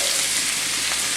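Onion sizzles in melted butter in a saucepan, a steady close hiss of frying with no talk over it.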